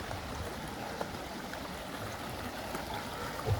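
Bukal Falls, a waterfall in Sariaya, Quezon, makes a steady, soft rushing and trickling wash of flowing water, constant and moderately distant with no break.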